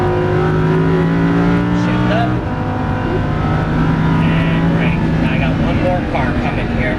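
A Lamborghini Huracan LP610-4 holds a steady full-throttle roar on a race track, its engine drone loud and continuous with a slight rise in pitch partway through.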